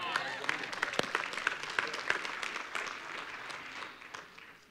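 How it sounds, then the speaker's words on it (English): A church congregation breaks into applause, with sharp individual claps at first building into steady clapping that gradually thins and fades toward the end. "Come on, applaud."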